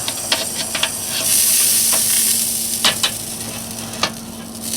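Meat sizzles with a steady hiss inside a homemade 32-quart pot smoker as pieces are flipped, with sharp clicks and scrapes of tongs and a brief burst of steam.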